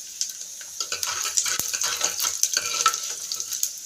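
Dried red chillies frying with mustard seeds and cumin in hot oil, a steady crackling sizzle with scattered pops and an occasional light clink of a spoon against the pan.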